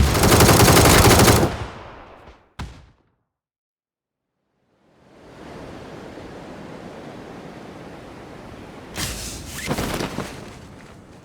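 A loud burst of rapid video game gunfire opens, then a short shot and silence, followed by a windy rush of noise and another close volley near the end.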